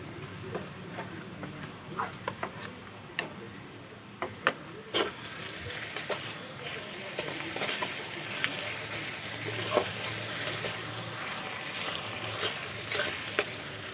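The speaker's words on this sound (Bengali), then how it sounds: "পেঁয়াজ, রসুন, কাঁচা লঙ্কা কিছুক্ষণ ভেজে নেব" Onion, garlic and green chili fry in a pan for a fish-head moong dal, a soft steady sizzle broken by frequent sharp scrapes and taps of stirring, fairly quiet and close with no talk.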